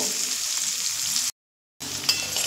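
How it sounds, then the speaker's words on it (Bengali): Potatoes with salt and turmeric fry on a medium flame in a steady, close sizzle that cuts out for about half a second, then resumes with a faint clink of stirring. "দিয়ে 2 থেকে 3 মিনিট মতো মিডিয়াম ফ্লেমে ভেজে নেব।"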